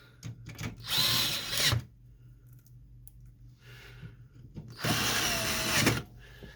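Screws being driven back in while reinstalling the fuser unit of a Samsung color laser printer, with two short buzzing bursts of a small driver separated by quieter handling clicks, close and without talk.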